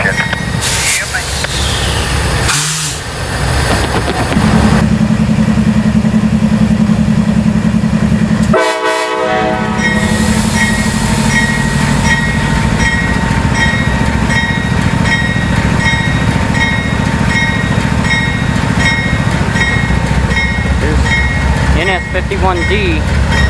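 A Norfolk Southern freight train, NS51D, rumbles and rolls past in Columbia, South Carolina, loud and close, with a brief horn blast and a clanking, squealing stretch partway through; voices talk over it at times.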